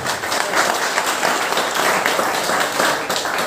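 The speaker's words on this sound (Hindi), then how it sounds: "काले एक बार ताली तो बनती है यार" Audience applause at a public speech, a dense burst of many hands clapping close and loud, sustained evenly for a few seconds without talking over it.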